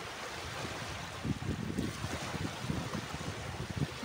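Gentle ocean waves wash onto the sand of Laguna beach at Marano, Italy, at sunrise, a steady faint surf with soft rhythmic breaks under light wind noise.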